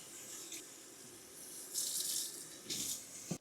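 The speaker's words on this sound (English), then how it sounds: "And just rinse that roll." A Shark AquaReach roller is rinsed under a running tap, giving a soft, steady stream of water with splashy surges as the roller moves through the flow, fairly quiet overall.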